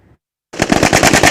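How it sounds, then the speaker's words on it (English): Rapid machine-gun fire during a joint army training exercise, a loud close burst of repeated shots that starts abruptly after a short near-silent pause and continues without letting up. "The sound of gunshots, the sound of war."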